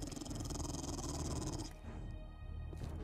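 A hostile dog in the zombie survival game 7 Days to Die, a loud rough snarling growl for over a second, then fading to quieter rumbling and a short final snarl, with no speech.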